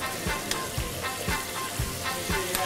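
A cheese mixture sizzles and fries steadily in a pan while being stirred, with a loud continuous crackle and periodic scraping strokes throughout; part of a traditional Kythnos dish being cooked.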